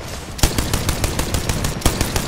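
Rapid automatic gunfire in a ranked video game match, a loud, steady stream of closely spaced shots with a few sharper bursts standing out, with no talking over it.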